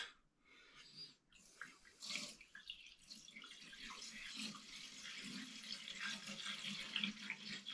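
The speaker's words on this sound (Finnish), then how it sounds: "mä kaadan täyteen tämän vettä" Water pours and splashes into a newly installed kitchen sink at a cottage under renovation, a continuous close rushing and gurgling that swells and wavers throughout, with no speech.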